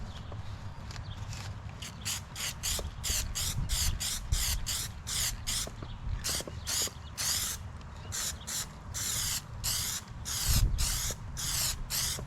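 Aerosol spray can laying light coats of paint on a car emblem, a rapid series of short, close hissing bursts with brief gaps, plus soft handling knocks underneath and no talk.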